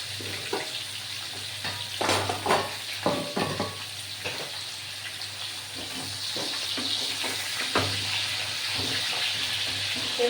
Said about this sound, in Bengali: আমি পটল আলু ছেড়ে দিলাম